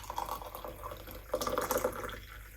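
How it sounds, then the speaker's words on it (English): Hot water pours from a teapot into a mug in short trickling bursts, a close, moderately quiet splashing and gurgling with a brief pause before a second fuller pour. "I use the same water then, and I put that in the mug"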